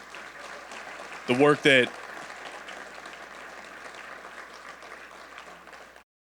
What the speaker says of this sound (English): Can we have one more round of applause for our speakers today